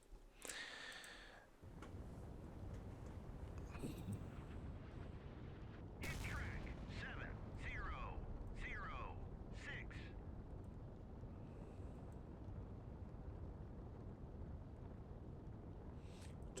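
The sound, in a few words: torpedoes and Tomahawk missiles hitting a ship in the video game Sea Power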